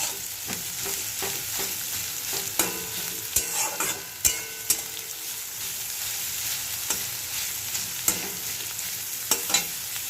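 Finely chopped onions fry in a pan for an egg curry, a steady close sizzle running throughout with sharp scrapes and clacks of a spoon stirring at irregular intervals.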